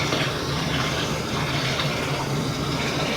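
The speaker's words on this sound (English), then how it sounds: "we actually want to rinse the rice with enough water, and you want to strain this" Water pouring and gushing steadily over rice being rinsed in a kitchen, a loud continuous splashing rush with no breaks and no talk.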